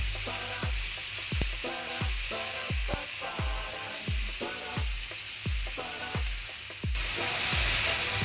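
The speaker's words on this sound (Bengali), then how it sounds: "আগে থেকে কেটে রাখা সবজিগুলো দিয়ে দিব। ভালো করে মিশিয়ে নিব।" Chopped vegetables hiss and sizzle in a hot pan while a spatula scrapes and stirs in a steady repeated rhythm, close up, with no talking.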